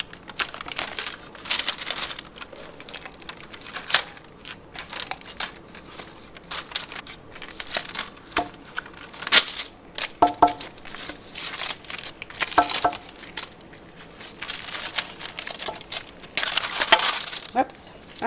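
Tape peeled and crinkled off a hot sublimation mug fresh from a toaster oven, with repeated crackly tearing and crumpling bursts spread through the stretch, close and fairly loud, with occasional bits of speech.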